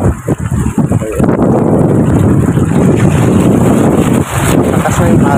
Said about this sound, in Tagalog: Malakas na yung hangin guys.